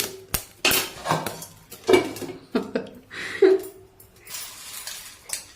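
Sorghum grains popping in a covered pan, making sharp irregular cracks and pings against the metal lid, close and fairly loud, with quieter rattling between the pops.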